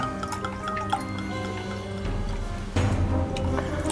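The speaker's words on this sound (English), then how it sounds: "We shall add our pumpkin spice liqueur to the milk." Pumpkin spice liqueur pours into cold milk in a steaming pitcher, a close trickling and dripping with small liquid splashes, shifting to a fuller, heavier pour partway through.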